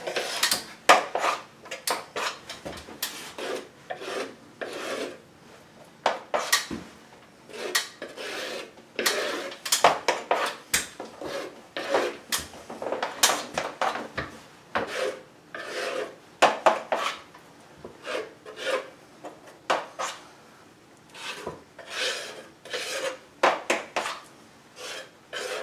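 A trowel scrapes and rubs wet plaster onto a plaster coving mitre for the second coat, making short, irregular strokes close by with pauses between them.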